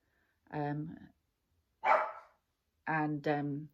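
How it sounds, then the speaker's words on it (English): Small, yappy dogs barking indoors, three short bursts of high, strained yaps, close and fairly loud, with silence between them. "That's the trouble with little dogs. They're so damn yappy."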